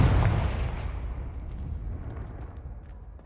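A fiery Confringo spell in the Hogwarts Legacy video game explodes with a heavy, loud boom whose deep rumble slowly fades, with a few faint crackles in the tail.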